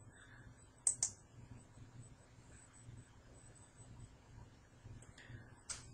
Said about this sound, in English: So with that, I'm clicking on this FTP link.